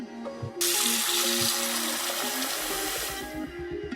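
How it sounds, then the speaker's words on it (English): A bathroom sink faucet turned on after a stopper repair and trap replacement, water starting abruptly and gushing steadily into the basin at close range, with a background melody playing underneath. "I turn on the water and check for leaks."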